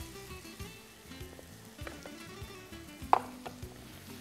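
Knol-khol fries quietly in a pan with turmeric and coriander powder, giving a faint steady sizzle and a few light scraping ticks, one sharper clink near the end.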